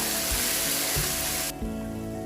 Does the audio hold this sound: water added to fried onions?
yes